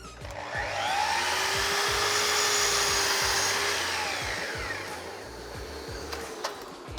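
A Festool Kapex miter saw spins up and cuts through wood with a loud, sustained whine that fades as the blade winds down. A few light clicks follow.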